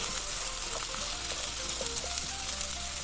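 Mushrooms sizzling and frying in a pan alongside other vegetables, a steady close crackle with occasional brief clinks, no talking.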